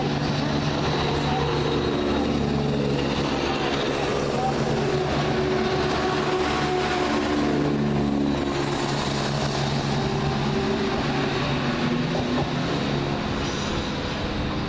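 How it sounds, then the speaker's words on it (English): A Southern Railway Class 171 turbo diesel unit, 171803, rumbles through a busy railway station, its deep engine drone and turbo roar holding loud and steady throughout with a layered, continuous low growl. "I hear the roar of a turbo, and that would be this turbo right here, 171803"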